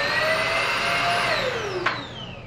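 An Aspiron cordless vacuum cleaner runs with a loud, steady motor whine and airflow hiss, its pitch sliding down briefly before a click and a slight drop in level.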